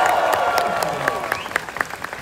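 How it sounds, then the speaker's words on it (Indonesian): Audience clapping at a festival performance, a brief burst of crowd applause with scattered sharp claps and some voices mixed in. "Coba tepuk tangan."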